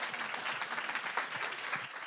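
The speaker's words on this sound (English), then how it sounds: "Now you can all applause." A crowd at a closing dinner claps steadily, a dense, even patter of applause from many hands throughout, with no voices standing out.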